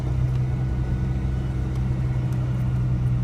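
Grandpa's old truck engine labours uphill with a steady, loud low rumble that holds under strain for the whole stretch, and no voices are heard.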